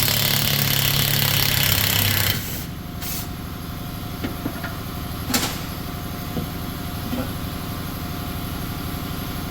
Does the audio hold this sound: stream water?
no